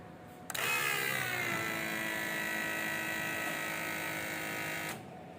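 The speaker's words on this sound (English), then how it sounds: "Now to turn on the fuel pump." An electric fuel pump on a fuel injector cleaning and testing rig switches on abruptly and runs with a loud, steady whine and buzz, then cuts off near the end.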